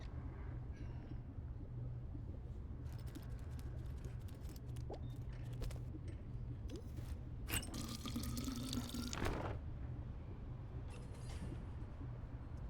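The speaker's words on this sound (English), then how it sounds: "Water, fresh drawn water." Water runs and splashes as fresh water is drawn in the video game Tails of Iron, a brief pouring burst midway through with scattered drips before and after over a low steady hum.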